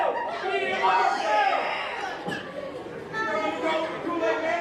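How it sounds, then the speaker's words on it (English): Baseball crowd heckling a batter, a busy murmur of many voices with scattered shouts and jeers rising and falling at moderate distance, including higher children's voices. "This crowd giving Dylan Dollar a hard time, and he is giving it right back to them."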